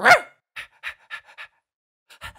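A cartoon dog pants in a quick series of short, breathy huffs, evenly spaced and close, following an opening sound burst and pausing briefly before a final pair of pants.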